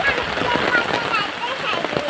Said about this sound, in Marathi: आत्ता शाळेत सोड आणायला जायच्या वेळेसच पाऊस आहे बघा